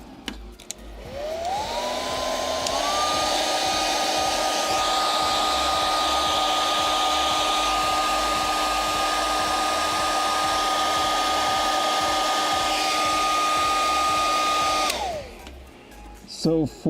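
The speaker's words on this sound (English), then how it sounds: "We're gonna hit this with a hairdryer" Hair dryer on its cool setting blowing over freshly laid glue on a puppet build in a workshop, a steady loud whooshing roar with a rising spin-up, running about thirteen seconds before cutting off.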